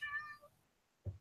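A cat meows once with a bright, wavering tone, then a short low thump follows after a pause; quiet indoor setting, no talking.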